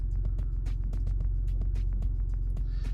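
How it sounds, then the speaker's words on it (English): A Ford EcoBoost pickup truck engine idles steadily with a deep, throbbing low rumble and a faint ticking clatter, constant and close throughout. "Got the truck cranked"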